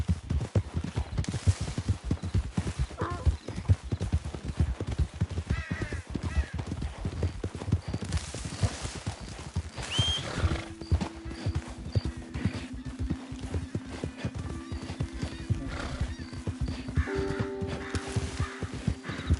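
Horse hooves galloping in the video game Red Dead Redemption 2: a steady, rapid clip-clop runs the whole way through, with a brief whinny and a soft tonal background later on.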